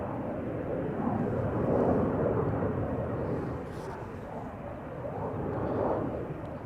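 Airliner departing Amsterdam Schiphol Airport, a continuous broad distant jet roar that swells and eases steadily with no talk over it.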